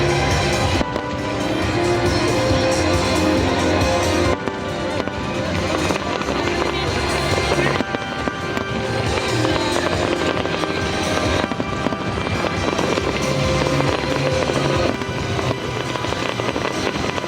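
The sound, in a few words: New Year fireworks in Dubai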